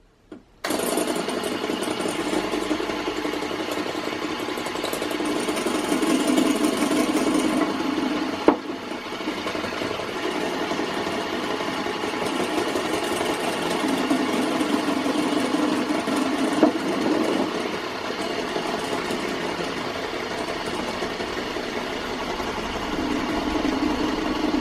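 An electric mixer beats butter, cocoa powder and icing sugar for a gluten-, lactose- and yeast-free chocolate cake, running as a steady close whir that starts abruptly and holds with slight bumps throughout.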